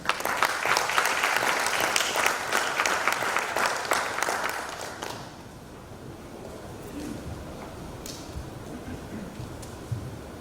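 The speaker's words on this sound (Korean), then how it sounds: "큰 박수로 환영해 주시면 감사하겠습니다" Dense audience applause fills a university vision-plan announcement hall, loud and steady for about five seconds before fading into quieter room noise with a few scattered claps.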